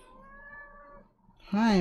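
A pet cat gives one loud, close, rising meow at the end of the clip, preceded by a soft sustained tone and quiet room noise.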